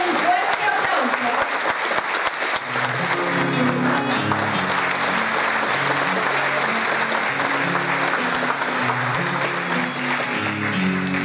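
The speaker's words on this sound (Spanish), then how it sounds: "Los vamos a recibir con un fuerte aplauso." Audience applause welcoming a payador, steady and fairly loud throughout, with a guitar playing notes underneath the clapping.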